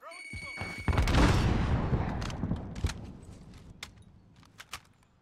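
A frag grenade going off in Warzone: a sudden heavy boom with a long rumbling decay. A few scattered clatters and thuds follow, loud and close.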